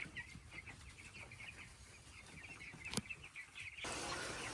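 Chicks peeping in a wood-chip brooder on a front porch, with a run of short, high, repeated cheeps close by, one sharp click, and a hiss at the end.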